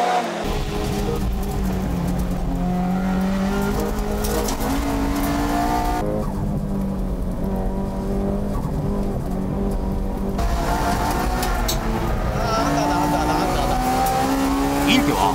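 Turbocharged sports cars, including a Nissan S14, race on a Japanese mountain pass, engines droning loudly and steadily with shifting pitch through corners and tire squeal, while a commentator talks over the racing.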